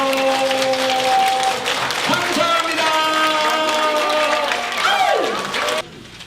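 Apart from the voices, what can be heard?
audience applause at a workshop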